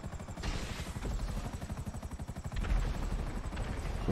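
A helicopter's rotor in Grand Theft Auto V Online thumps rapidly and steadily, loud and continuous, with a brief swell in intensity partway through and no talking.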